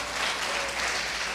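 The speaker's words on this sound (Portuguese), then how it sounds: "Dê uma salva de palmas a Jesus" A church congregation applauds Jesus in a brief, dense, steady wash of clapping from many hands, with no distinct individual claps and no talk.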